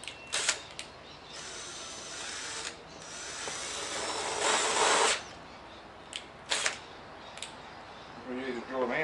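A power drill drills out holes in a shed, a couple of quick revs then one sustained whirring run of about two seconds, close by, followed by scattered short bursts and a little talk.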